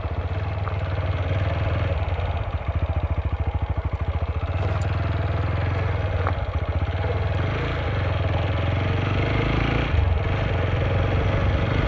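A motorcycle engine drones steadily during a road ride, with a rapid pulsing throb early on and constant wind-like rumble throughout.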